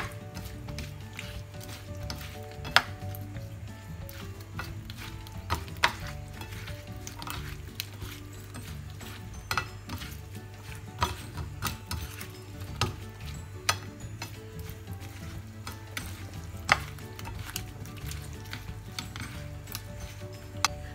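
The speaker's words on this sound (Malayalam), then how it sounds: "പൊരിക്കുന്ന രീതിയിൽ ഇളക്കുന്നു." A spoon stirs pepper-coated potato slices for air-fryer chips, giving soft sizzling and scraping with scattered sharp clicks over a low steady hum from start to finish.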